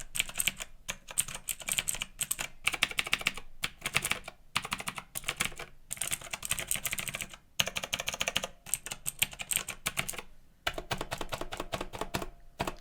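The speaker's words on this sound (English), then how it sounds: "We have Kale blue switches, and they do sound and feel a lot like Cherry MX Blue." Clicky mechanical keyboard with Kailh blue switches typing in quick bursts, each keystroke crisp and close, separated by brief pauses, with no talking.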